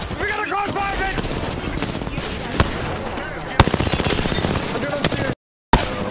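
Crossfire in the video game Apex Legends: rapid automatic bursts and single cracks from several weapons overlap at close range while excited players talk over the shooting, then the sound briefly cuts out.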